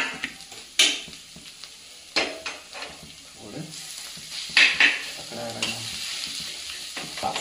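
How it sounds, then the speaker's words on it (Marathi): Squeezed kurdu wild greens drop into a pan of frying masala, with sizzling and stirring scrapes and a few sharp clatters at the start and near the middle. "चांगला असा मसाला परतून झाल्यानंतर ना बघा आता ही भाजी आपण जी पिळून घेतली होती ही भाजी टाकून घेऊ"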